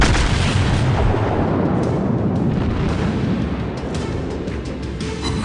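Warship guns roaring in World of Warships, a loud dense barrage of booming artillery blasts rumbling continuously and close, with no voices over it.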